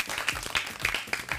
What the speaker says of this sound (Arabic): صفقوا حق محمد من الإمارات